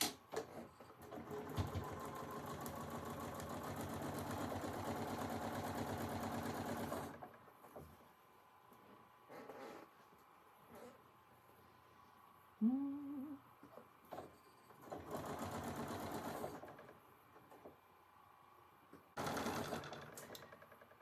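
Sewing machine chain-piecing quilt blocks, a steady close buzzing run for several seconds, then shorter bursts separated by quiet pauses with small handling sounds.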